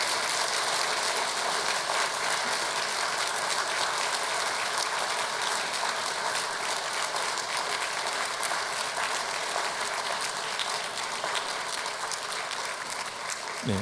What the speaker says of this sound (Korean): 성도님들께서는 박수로 환영하겠습니다